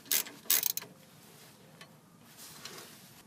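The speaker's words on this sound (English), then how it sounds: "we're going to use a 14mm socket on a ratchet to finish tightening it up" A ratchet with a 14mm socket tightens the lower rear brake caliper pin on a 1997 Mitsubishi Montero, giving two short bursts of close metallic clicking early on, then a quiet stretch with a few faint ticks.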